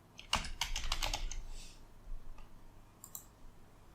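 Someone types a user password on a computer keyboard during a Linux Mint 21.1 setup: a quick burst of close, crisp key clicks, then a few isolated taps after a short pause, in a quiet room without talk.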